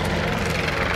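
A tour helicopter flying over the Circus Maximus gives a steady, dense rotor and engine roar at moderate distance, continuous through the brief moment, with no voices.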